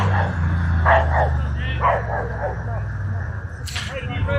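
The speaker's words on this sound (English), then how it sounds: "We do have a dog behind us attacking a gentleman on a 4-wheeler" A dog barks and yips at a man riding a four-wheeler behind a baseball ballpark, several quick barks in bursts over steady crowd and wind noise, moderately distant, with people talking nearby.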